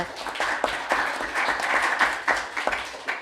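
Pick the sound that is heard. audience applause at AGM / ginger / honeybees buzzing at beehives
audience applause at AGM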